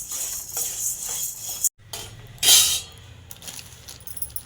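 Grains, chana dal, cinnamon and other spices dry-roasting in a pan for sambar powder, with light scraping, ticking and clinking of a stirring spoon against the metal, close and steady with one brief louder stir.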